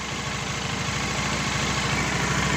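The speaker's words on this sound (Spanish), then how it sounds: "La moto en ralenti" A Bajaj Dominar 400 motorcycle sits idling with its stator disconnected, the engine giving a steady, even low-pitched thrum of rapid regular pulses, close and alone.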